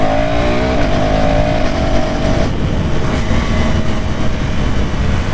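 A 2026 KTM Duke 390 motorcycle with a 350cc engine pulls hard, its rising engine note climbing over a couple of seconds, then settling into a loud, steady roar with wind and road noise throughout.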